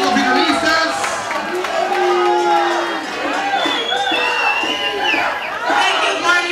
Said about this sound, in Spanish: Yo quiero que les brinden un aplauso fuerte